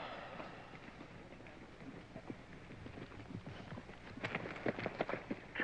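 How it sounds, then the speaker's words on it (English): Horses trotting around a show ring go-round, with a soft, continuous patter of hooves under a faint murmur of background noise, the hoofbeats growing a little louder and sharper toward the end. "Trot your horses, please."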